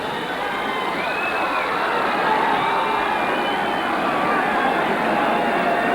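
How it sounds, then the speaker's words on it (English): A boxing match crowd in Bossier City roars steadily throughout, a dense continuous wash of cheering and shouting with no pauses. "This crowd here in Bossier City enjoying it as we hope you are"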